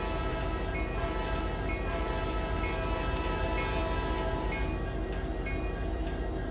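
An SD70M locomotive in the Trainz video game sounds a sustained horn chord over a steady rumble of the train, continuous and even in loudness, with a few faint clicks near the end.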